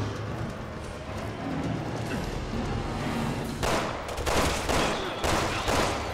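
Bursts of gunfire from the video game Resident Evil 6 crackle over a steady background rumble, growing louder and denser toward the end with several sharp volleys.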